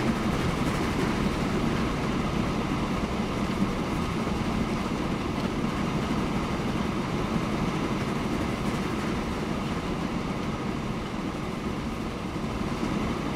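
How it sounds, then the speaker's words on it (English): A passenger train rumbles past in the transport simulation game Transport Fever, a loud, continuous broadband roar with a faint rhythmic rattle and no talking. "we've got a train going underneath with passengers"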